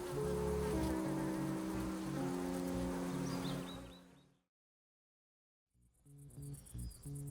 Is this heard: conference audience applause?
no